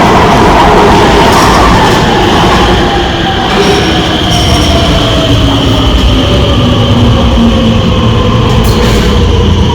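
A crowded metro train runs loud and steady throughout, rumbling with wheel squeal and rising and falling whines, close and continuous with no talk.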